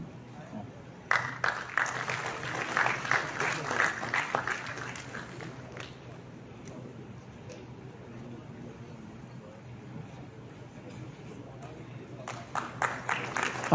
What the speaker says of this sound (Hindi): तालियां, जोरदार तालियां बजती रहें।